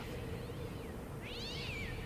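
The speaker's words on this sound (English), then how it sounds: "And there are cats here too." Cats meowing in the adventure game Secret Files: Tunguska: a faint mewing call early on, then a clearer, louder rising-and-falling meow toward the end, over a steady ambient background.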